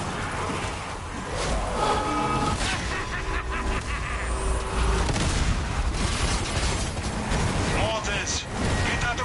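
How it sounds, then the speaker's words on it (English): Mortar fire and heavy explosions in the video game Zombie Army 4 boom repeatedly amid clanking mechanical game noise and shifting tones, loud and dense throughout with several thuds landing close by. "Mortars, get out of the way!"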